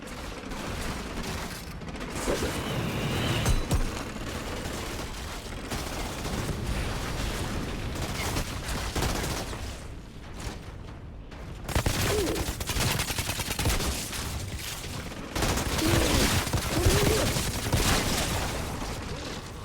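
Gunfire in the shooter game Outriders, rapid bursts of automatic fire mixed with clanking mechanical weapon sounds, loud and near and continuous, with brief lulls between volleys.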